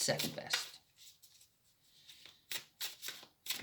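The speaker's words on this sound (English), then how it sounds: "Okay, there's our shuffle." Tarot cards being shuffled up close, with bursts of riffling and sliding card noise across the clip and a voice speaking briefly between them.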